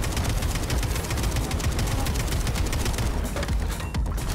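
Rapid gunfire in the Atomic Heart video game, dense bursts of shots rattling continuously over a low rumble, loud and close for the whole stretch.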